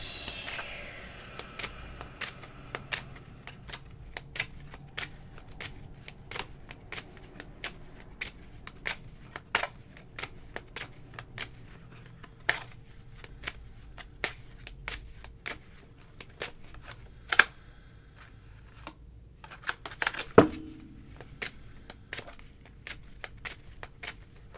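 Tarot cards are shuffled for a reading with a quick riffle at the start, then a long run of crisp, separate card snaps and taps in a quiet room, with a louder flurry near the end.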